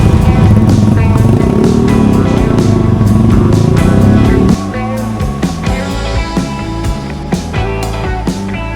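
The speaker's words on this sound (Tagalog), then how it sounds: "May mga dumaang nakamotor." Motorcycles passing by on a road near a bridge in Quezon, a loud engine rumble that swells then fades, followed by quieter revving and clatter while people talk close by.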